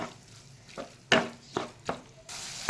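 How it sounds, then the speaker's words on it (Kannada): Tomatoes cooking in butter in a pan for Bombay-style pav bhaji, a soft low sizzle broken by three or four brief, close scraping bursts of stirring, with no talk. "ಟೊಮೊಟೊ ಲಾಸ್ಟಿಗೆ ಹಾಕಿ ಚೆನ್ನಾಗಿ ಬೇಯಬೇಕು ಬೆಣ್ಣೆಯಲ್ಲಿ"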